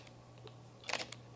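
A Fuji X-T4 mechanical shutter gives a single soft, quiet click, held up close to the microphone and heard over a faint background hum.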